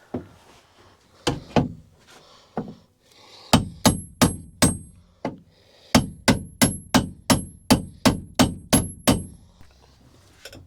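Sharp metal-on-metal hammer blows drive a chisel into a steel beam inside a van during a bunk window installation, struck in irregular bursts, then a steady run of about a dozen evenly spaced, ringing clanks, close and loud.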